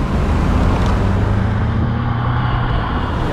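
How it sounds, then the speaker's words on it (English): A 2020 Mazda Miata drives with its top down, engine droning loud and steady beneath heavy wind and road rumble, with no voices over it. "I am enjoying driving the Miata"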